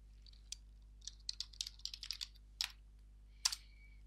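Keys tap on a computer keyboard in a quick burst of separate clicks, then a few isolated strokes, as a password is entered at a login prompt in a quiet room over a low electrical hum.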